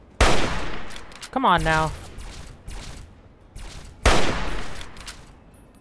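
Gunshots in Fallout 3 on PC: two sharp, loud shots a few seconds apart, each trailing into a decaying rumble, with a brief mechanical whine between them and a short spoken line.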